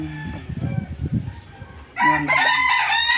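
A White Kelso gamefowl rooster crows loudly and close, one full crow rising into a strong harmonic call in the second half, preceded by softer clucking and farmyard bird noise.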